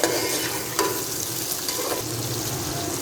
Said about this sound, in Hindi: 1 मिनट के लिए इसको भी अच्छे से फ्राई कर लेते हैं मिर्चों को